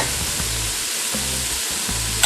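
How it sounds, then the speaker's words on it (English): Vegetables for shrimp creole sizzle steadily in a pan with a little seafood stock, with soft scraping strokes as they are stirred, close and continuous without talk. "we're going to stir our vegetables so they don't burn"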